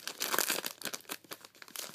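Foil wrapper of a Flash Fire trading card booster pack being crinkled and torn open, with dense, close, continuous crackling rustles.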